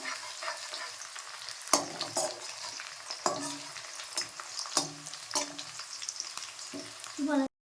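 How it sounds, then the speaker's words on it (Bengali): Chillies frying in a pan while being stirred, a soft steady sizzle punctuated by several distinct scrapes and clatters of a utensil against the pan, close up and moderately quiet, with no speech. "দিয়ে দিচ্ছি লঙ্কা, দিয়ে এবার নাড়বো"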